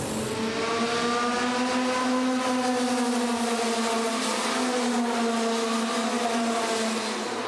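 Rotax Max Light racing karts on a street circuit, a loud sustained two-stroke engine drone with a steady rising and falling pitch as karts pass close by, with no talking.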